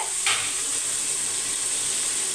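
Mutton thokku sautéing in a pan, giving a steady, close sizzle and hiss with a brief stir or scrape near the start, then continuous frying noise with no voices.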